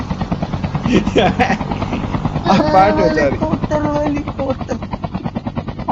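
A helicopter in the Call of Duty Mobile battle royale gives a steady, whirring rotor throb that runs continuously under excited talk from players.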